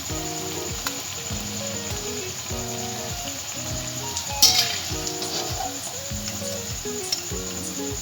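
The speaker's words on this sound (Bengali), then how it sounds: "অল্প আছে পকোড়াগুলো ভাজতে হবে," Potato pakoras fry in hot oil with a constant bright sizzle, while a steady, regular clink of a utensil against the pan repeats near and clear throughout, with one brief louder scrape midway.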